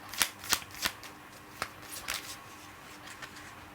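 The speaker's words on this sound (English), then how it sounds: "let me pull 3 Lenormand cards for you firstly." Lenormand tarot-style cards being shuffled and drawn, with a few crisp riffling snaps followed by softer slides and taps as cards are pulled, close and quiet, no voices.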